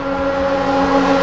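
Porsche Group C race cars in the Assetto Corsa racing game drone past with a steady loud tonal engine note that holds constant throughout, with no talk.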